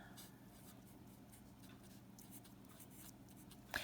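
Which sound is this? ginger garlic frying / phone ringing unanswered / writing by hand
writing by hand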